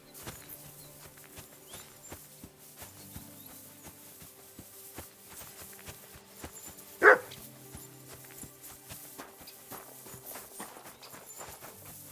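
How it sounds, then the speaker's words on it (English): In the medieval video game Kingdom Come: Deliverance 2, a single short dog bark rings out partway through, over soft footsteps, hoof-like clopping and a low ambient bed. "Barking. He's coming from over there."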